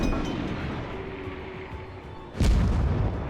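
Naval guns fire from a ship in World of Warships, with a steady engine-like rumble and then one loud, sudden boom whose roar carries on to the end.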